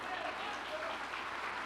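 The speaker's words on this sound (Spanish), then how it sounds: "denle un fuerte aplauso al Señor" A church congregation gives a brief burst of applause during a service, steady and soft as if heard from some distance.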